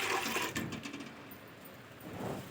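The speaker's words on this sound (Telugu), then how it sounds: "స్టవ్ వెలిగించుకొని ఒక పెద్ద భోగాన్ని పెట్టేసి దాంట్లో ఆ నీళ్ళు పోసేయాలి" Water is poured into a large pot set on a stove, giving a soft, fairly faint rushing splash that eases off midway and swells again at the end.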